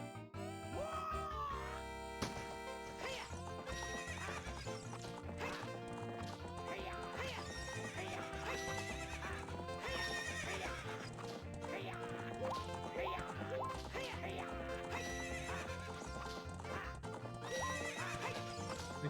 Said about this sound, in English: One lap around the corral with that horse.